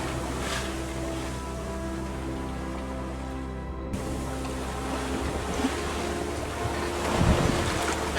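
A sailboat running in strong wind: steady rushing wind buffets the microphone over the wash and slap of water against the hull, fairly faint and continuous, with a louder splash near the end.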